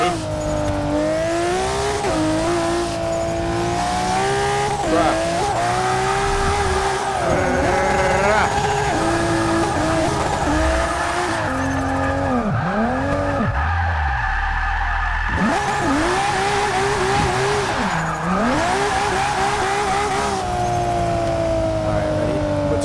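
A car drifts in the Forza 6 racing game, its engine revving and swooping in pitch amid continuous loud tire squeal and skidding for over twenty seconds, with people talking over it.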